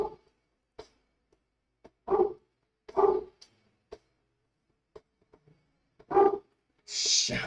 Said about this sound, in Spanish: perro, deja de ladrar